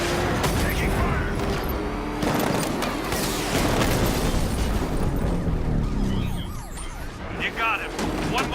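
Gunfire and explosions roar through a Batman Arkham Knight car chase, a dense, continuous barrage of blasts and mechanical clatter with siren-like tones, loud throughout and easing slightly near the end.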